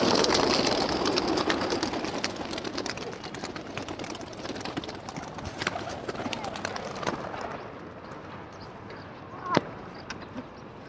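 Racing pigeons about to be released for a flying race, heard as scattered cooing and rustling with a steady outdoor wash of noise, a busy stretch early on thinning out later, with a sharp sound near the end.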